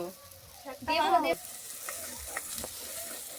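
Spices fry in a pan for katla fish kalia, giving a continuous sizzle with a brief louder tonal burst early on, followed by scattered stirring scrapes and ticks.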